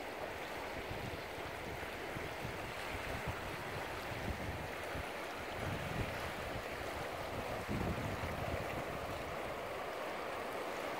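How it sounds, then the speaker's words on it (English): High water rushes down the Gila River in the Gila Box Conservation Area, a steady broad roar of flowing current heard close by, mixed with wind buffeting the microphone, with no voices. "So here we are at the Gila River"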